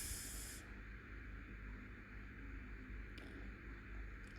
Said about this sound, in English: I'm using my Ocean spray for the hair